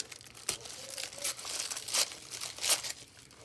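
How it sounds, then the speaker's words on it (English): Paper is torn by hand for an envelope journal in several short ripping strokes, close up in a quiet room, with faint crinkling between tears. "Okay, so we're going to tear a piece of this."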